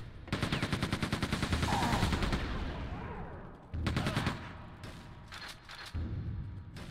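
A rapid-fire weapon in Quake II sputters in fast rattling bursts, the first stretch long and continuous, then shorter volleys separated by pauses, loud and close.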